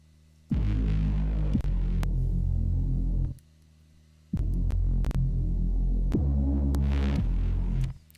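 Deep reese bass synth processed with a multiband compressor, playing two long sustained throbbing notes with a short gap between them, loud and alone with crunchy upper harmonics.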